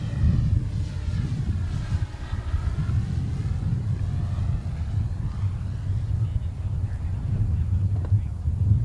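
A competition model airplane at an AIAA Design/Build/Fly event flies laps in a crosswind and touches down on the runway, its engine drone steady and moderately loud throughout with broadband wind-like noise, and a voice talks over it.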